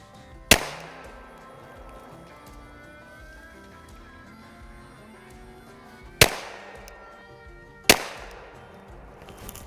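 Three gunshots are fired while zeroing a red dot sight: one sharp, loud crack, a long pause, then two more a second or two apart, each ringing briefly into quiet outdoor air.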